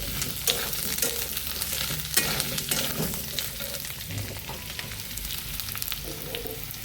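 Oil heating in a pan for a vegetarian soybean curry, crackling and sizzling in a steady dense hiss with scattered pops and occasional stirring scrapes, close and moderately loud with no talk.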